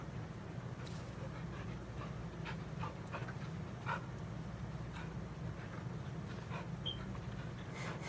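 A dog in the horror game Blair Witch pants in quick, soft, rhythmic breaths close by, over a low rumbling ambient drone with a few faint clicks.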